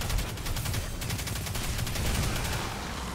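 Rapid gunfire rattles in the video game Destiny, a dense continuous burst of shots that stays loud and unbroken for a few seconds with no talking over it.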